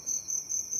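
Crickets kept in a farm sack chirp in a steady, high, continuous trill, close by and moderately loud, with no voices.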